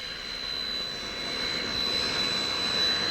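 A jet airplane roars steadily at Tampa International Airport, a broad continuous engine rush with a thin high whine, swelling slightly louder toward the end with no voices.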